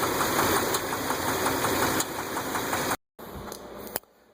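A 2001 Dodge Ram's 8.0L V10 engine idles with a rapid, rhythmic knocking and ticking, loud and close, then a brief cut and a quieter stretch with the ticking continuing.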